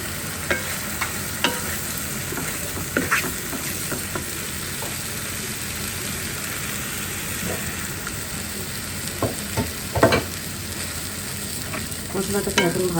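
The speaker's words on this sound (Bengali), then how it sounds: "মশলাটাকে এখন ভালোভাবে কষিয়ে নিতে হবে যতক্ষণ পর্যন্ত গন্ধ না যায়" Spice paste with almond paste frying for beef korma, a steady broadband sizzle throughout with occasional scraping stirs and clicks of a spatula against the pan, close and moderately loud.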